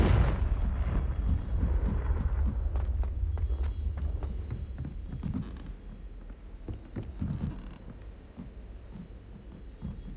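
Confringo fire spell blasts in Hogwarts Legacy, a heavy booming explosion at the start followed by a rumbling tail and scattered cracks and impacts that gradually thin out.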